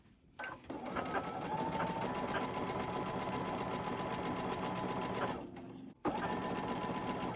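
A sewing machine runs close up, piecing quilt blocks together with a quarter-inch seam: a steady, rapid mechanical whir that lasts about five seconds, eases off, pauses briefly and then starts again.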